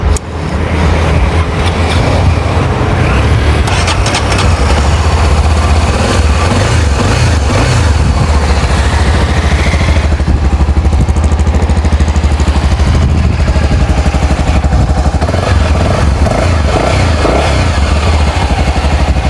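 A Honda XRE 300 Rally motorcycle engine starting up close by, then idling with a loud low rumble and several revs rising and falling over about nineteen seconds.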